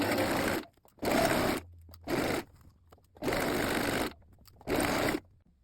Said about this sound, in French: vous allez coudre à 2 mm du bord et vous allez allonger votre point sur 4